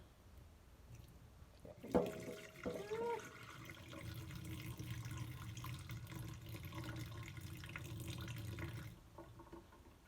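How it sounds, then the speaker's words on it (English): Vinegar pours steadily for several seconds after a couple of clinks, a close, continuous splashing stream that stops abruptly. "So I'm going gonna pour off the vinegar."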